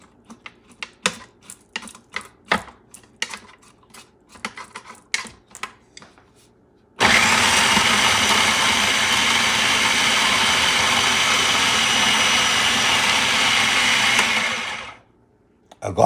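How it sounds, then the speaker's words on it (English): Blender whirring through goat curry ingredients, starting after several sharp clicks and knocks, then a loud, steady roar for about eight seconds that cuts off abruptly, followed by a couple of quick knocks. "And then I'm going to blend this baby."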